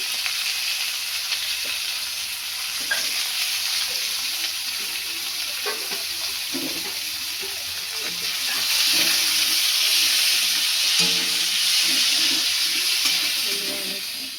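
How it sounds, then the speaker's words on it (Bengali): Onions sizzle steadily in hot oil in a kadai for birista, crisp frying that swells louder midway with occasional stirring clinks, with no talk. "এবার ওই তেলের মধ্যে পেঁয়াজের বেরেস্তা করার জন্য পেঁয়াজটা ছেড়ে দেবো"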